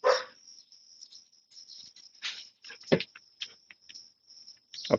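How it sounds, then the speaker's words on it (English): A little dog barks outside in a few short, scattered yips spread across several seconds, faint and somewhat distant, with a steady high hiss and occasional bird chirps in the background. "there's a little dog out there"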